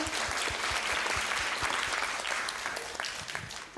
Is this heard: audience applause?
yes